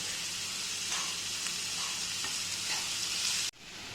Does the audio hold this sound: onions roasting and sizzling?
yes